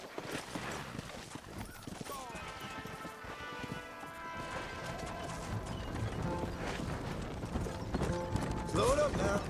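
Horse hooves clip-clop steadily through an arid Mexican setting in the Red Dead Redemption video game, moving alongside a wagon, with a voice speaking over a bed of music and ambient noise.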